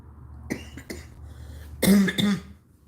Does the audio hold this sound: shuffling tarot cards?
no